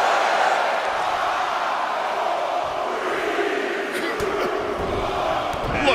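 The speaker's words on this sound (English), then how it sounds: "Just listen to the crowd." A crowd cheers during a 10-man Royal Rumble match in the WWE 2K23 wrestling video game, a steady dense arena roar that holds at an even level throughout.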